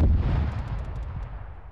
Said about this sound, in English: Explosions behind us.